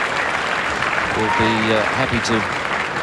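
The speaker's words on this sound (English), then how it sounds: "give him plenty of applause" A cricket crowd at Adelaide Oval gives steady, fairly loud applause for a Saeed Anwar shot in a World Series Cup match against Sri Lanka, with a commentator talking over the clapping.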